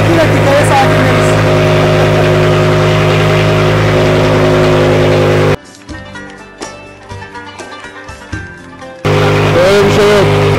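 Loud, steady engine roar from a BMW E60 M5 with its V10, running hard with strong harmonics, cutting out to quieter mixed sounds for a few seconds before the dense engine noise returns at full level.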